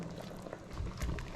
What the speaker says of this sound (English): here is our black eye cooking for about 10 minutes